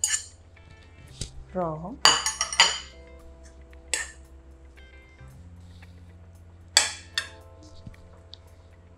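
A spoon scraping and clinking against a dish while food is stirred and mixed, scattered sharp clinks close by, with a voice speaking briefly.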